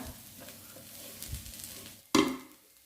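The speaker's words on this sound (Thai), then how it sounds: "ก็จะผัดคุเลคุเลไปจนจนเนื้อเนียนสวยเลยค่ะ จนเข้ากับน้ำมันเข้ากับเข้าเครื่องดีนะคะ" Mushroom chili paste is stir-fried in oil in a pan, giving a soft, steady sizzle and scraping stirs, followed by one louder clatter near the end.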